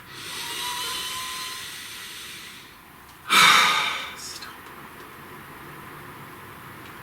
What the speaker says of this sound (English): Please take a nice deep breath.